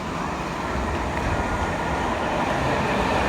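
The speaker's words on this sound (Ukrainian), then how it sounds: "Так, це там шумить у нас потяг." A train passes unseen beyond trees near a park, a steady broadband rumble that swells slightly toward the end, with no voices over it.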